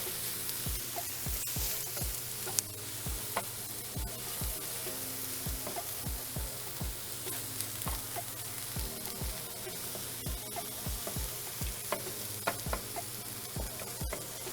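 Onions and meat frying together on a griddle for Philly cheesesteak, a soft steady sizzle with frequent scraping, chopping clicks from a spatula, and no talk.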